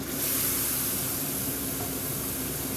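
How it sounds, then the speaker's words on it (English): Base gravy poured into a hot pan for a single-portion BIR-style curry sets off a loud, steady hiss of sizzling and steam that lasts about three seconds, with no talking. "I'm going to add a touch of base gravy to this."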